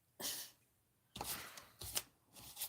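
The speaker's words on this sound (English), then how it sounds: "shuffle your cards in, and I'll do a sneaky cut" Oracle cards are shuffled by hand in several quick, soft riffling bursts separated by short pauses, close and fairly quiet with no talking.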